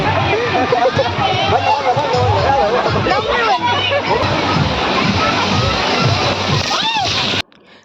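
Water splashes and sloshes steadily on a water slide at an amusement park while a noisy crowd chatters and shouts all around, then the sound drops off abruptly.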